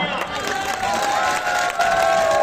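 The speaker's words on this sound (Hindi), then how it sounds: "जोरदार तालियां" Dense crowd noise at a political rally in Dholpur, Rajasthan, steady and loud throughout, with cheering and shouting mixed into the broad roar of applause.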